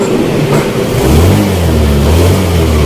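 Yamaha Nouvo Elegance scooter engine after a repair, revving close by, the pitch climbing smoothly as the throttle opens and holding a loud steady drone.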